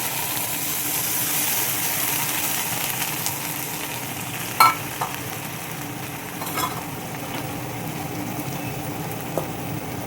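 Boiled chana dal poured with its cooking water into a hot frying pan, bringing a steady, moderate sizzling hiss with a few brief clinks from a spoon or pan.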